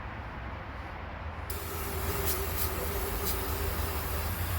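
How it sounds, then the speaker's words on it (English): Cheap AutoZone degreaser hisses in a steady spray onto carbon-covered valves of a 2001 Honda Accord, starting partway through over a low background hum, with a few short bursts. "What I'm gonna do is I'm gonna spray some degreaser in there, and it's just the cheap AutoZone stuff."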